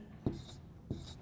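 A marker drawing a calorie diagram on a board makes two short, scratchy strokes about half a second apart against a quiet room.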